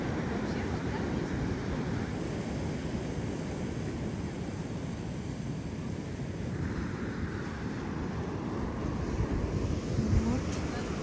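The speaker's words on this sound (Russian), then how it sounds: "А тут такие волны." Ocean waves roll onto a beach in Turkey under a red-flag warning, a continuous surf roar mixed with wind buffeting the microphone, steady throughout with faint voices in the background.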